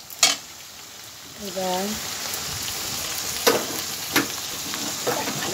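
Chopped onion sizzles steadily in a pan for a prawn dish, with a few sharp stirring clatters over the constant frying hiss and one short spoken word.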